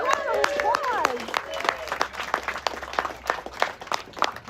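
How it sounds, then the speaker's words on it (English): Crowd applause at a passenger rail press conference, scattered claps mixed with voices and cheering over roughly four seconds, with people talking throughout. "Let's get a big round of applause."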